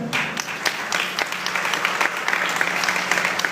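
Scattered applause from a church congregation during a sermon, uneven claps rising and falling in a loose, moderately quiet patter.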